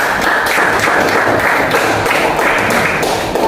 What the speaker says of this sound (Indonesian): Ini aplaus buat temannya.